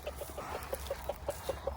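Backyard hens cluck softly in a quick, regular series of short notes while feeding on fallen persimmons, fairly quiet against low background noise.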